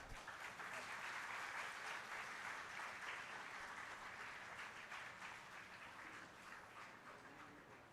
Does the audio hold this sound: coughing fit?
no